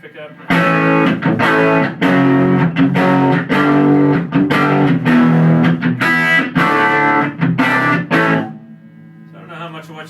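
An electric guitar on its bridge pickup plays through a Vintagesoundamps VS410 amp with stock vintage speakers pushed into breakup. Loud, gritty chords are struck in repeated bursts, then cut off near the end, leaving faint ringing notes.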